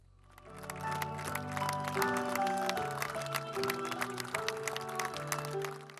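Sustained applause from a theatre audience in San Giuliano di Puglia, dense steady clapping with music-like tones layered over it, holding loud for the whole stretch.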